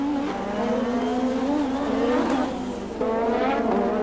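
A 1986 Formula 1 race car with a punctured left rear tyre heads into the pits, its engine droning loudly and steadily with shifting pitch, close and continuous with no voices over it.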